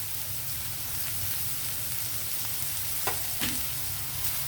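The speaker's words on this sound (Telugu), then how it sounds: "ఉల్లిపాయలు కొంచెం కలర్ మారే వరకు వేగనిద్దామండి" Chopped onions fry in oil in a pan for a bhindi (okra) fry, giving a steady, close sizzle with a couple of brief pops or clicks near the end and no talking.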